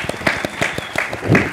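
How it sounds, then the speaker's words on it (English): Sparse clapping from a small audience applauding Sally Francis, a handful of distinct, separate claps in an uneven rhythm, with a brief voice near the end. "Round of applause for Sally Francis,"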